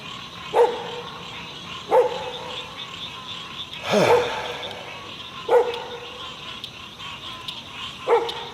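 Dogs bark five times at steady intervals, moderately distant, with one louder, closer bark midway, over a quiet outdoor fishing setting with faint background noise.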